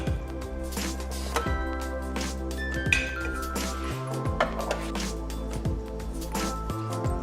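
Plates and cutlery clinking while homemade scones are plated with butter and jam, a series of light, close ceramic and metal taps and clinks over soft background music.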